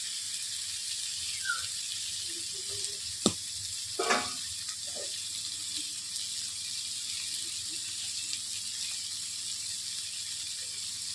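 Pointed gourd and potatoes fry in a pan with a quiet, steady sizzle, broken by a few short clinks and scrapes of stirring partway through.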